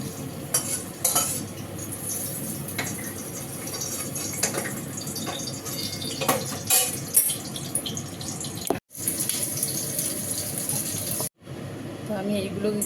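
Food is stirred in hot oil in a pan, soft scraping and clinking of a utensil over a low sizzle, with light kitchen noise and two brief dropouts.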